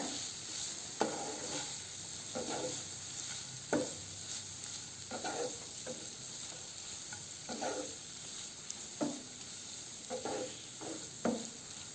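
Okra masala frying in a pan and being stirred, a soft steady sizzle broken by about a dozen scraping strokes of the spoon at uneven intervals, close and fairly quiet.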